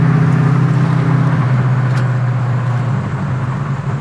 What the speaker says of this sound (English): It's got a perfect exhaust tone too, where it's not too loud. It's just a nice crisp sound.